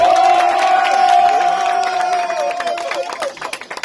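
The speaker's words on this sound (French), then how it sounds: "Vous êtes qualifiés, applaudissez pour vous-même." A football team in a locker room claps and cheers after qualifying, loud whoops and shouts over rapid hand claps that thin toward the end into scattered, sharper claps.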